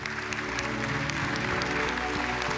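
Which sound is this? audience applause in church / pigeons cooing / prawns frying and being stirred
audience applause in church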